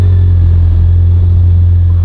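Loud, low steady rumble of a car engine idling nearby, a constant deep drone with no change in pace over a couple of seconds.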